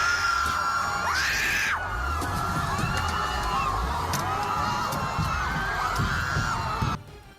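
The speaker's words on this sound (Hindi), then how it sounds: "उसके बाद तो वहां चीख पुकार मच गई" A large crowd of protesters in Los Angeles screams and shouts in panic as a truck drives into them, a dense, sustained roar of voices from start to finish before cutting off abruptly near the end.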